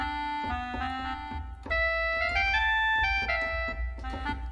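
Clarinetica, a free clarinet software instrument, plays a flowing melody of reedy sustained notes, rising then settling over steady background chords, close and with no voice.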